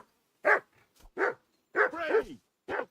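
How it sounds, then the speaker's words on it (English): A dog barks repeatedly in the medieval role-playing game Kingdom Come: Deliverance II, giving about five loud, close barks in an uneven rhythm, one of them a longer drawn-out yelp, with no talk over them. "Do something with that mutt, Henry."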